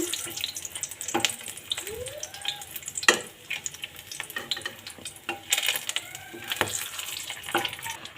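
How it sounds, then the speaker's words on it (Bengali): Bay leaf, two cardamom pods and a cinnamon stick frying in oil, with light sizzling broken by sharp scrapes and taps of a spoon being stirred through the pan, close and fairly quiet. "আরও কিছুটা পরিমাণ তেল দিয়ে দেবো একটা তেজপাতা দুটো এলাচ দিয়ে দেবো এক টুকরো দারচিনি দিয়ে এগুলোকে একটু নেড়ে নেবো"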